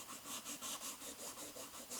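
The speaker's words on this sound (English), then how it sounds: "So I've got a sanding tool here, and I'm just going to gently" Quiet, rhythmic scratchy rubbing of a sanding tool across embossed, gold-foiled paper, steady back-and-forth strokes with no voices.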